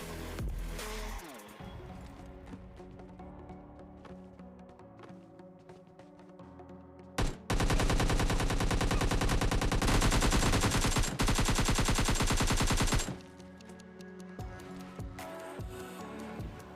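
Gunfire crackles in a PUBG Mobile Lite match with a shotgun in play. Scattered individual shots are followed by a sustained loud burst of rapid fire lasting several seconds, then more sporadic shots, with no one talking.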